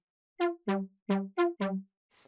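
A future house synth lead stacked with eight detuned unison voices plays five short, bright, buzzy notes in a clipped rhythm, followed by a faint noisy tail.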